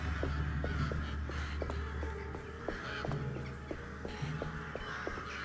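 Crows caw repeatedly in the Alone in the Dark video game, a series of short harsh calls at an uneven rhythm over a low ambient drone, fairly close and with no voices.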